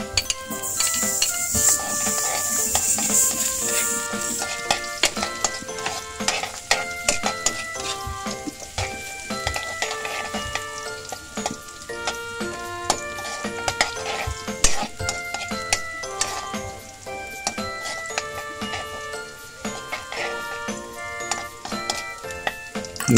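Garlic and ginger sautéing in a pan while being stirred, a steady soft sizzle broken by frequent clinks and scrapes of a utensil against the pan throughout, with no voices.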